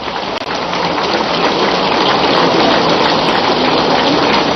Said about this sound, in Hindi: हमारे जवान घनघोर वर्षा में भीग रहे हैं